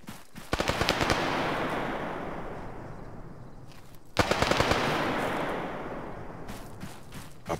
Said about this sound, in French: J'entends des tirs plus vers le sud.